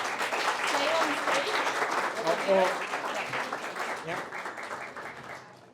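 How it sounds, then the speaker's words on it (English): Applause for a startup team at a pitch competition, a burst of clapping from an audience that peaks early and gradually tapers off, with a brief voice near the start. "So big applause for Coffee Up."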